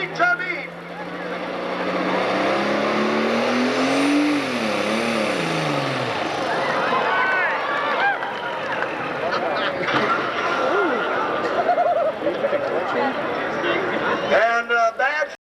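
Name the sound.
pulling tractor engine revving and fluttering during a pull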